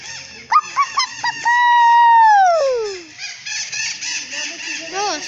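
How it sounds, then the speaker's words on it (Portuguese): Rooster on a farm giving one loud drawn-out crow that rises, holds, then drops away, with shorter calls before it and a few fainter calls after. "Nossa, já passou um galo?"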